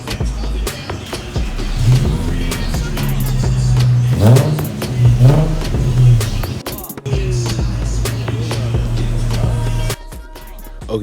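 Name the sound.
Infiniti G35 revving with muffler and resonator delete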